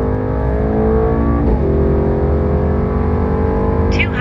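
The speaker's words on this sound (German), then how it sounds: "So, Patrick, dann haben wir jetzt die Zeit 100 auf 200." Mercedes-AMG E63s Stage 3 with a GAD supercharger conversion accelerating hard from 100 to 200 km/h, a loud, steady in-cabin engine roar rising in pitch throughout, with one brief shift-like dip partway through.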